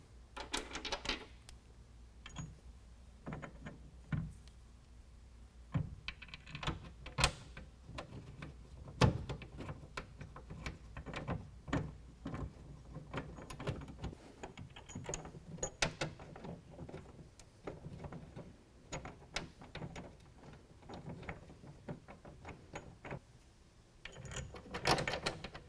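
Mounting bolts for a BAK Revolver X4s hard roll-up tonneau cover are worked into the bed of a 2022 Toyota Tundra, giving scattered metallic clicks, clunks and ratcheting taps at close range with no talking.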